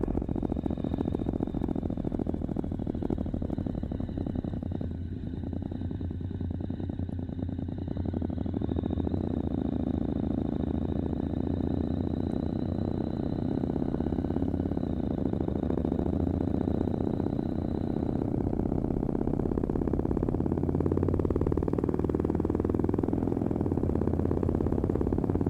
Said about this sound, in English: capture a lot better sound on the motorcycle